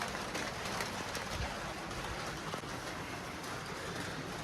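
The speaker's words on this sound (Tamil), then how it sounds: "சரியான மழையாக இருக்குது." Heavy rain falls on the Annapurna Base Camp trek between Ghandruk and Chhomrong in Nepal's mountains in April, a dense, steady hiss of drops with occasional closer patters and no pauses.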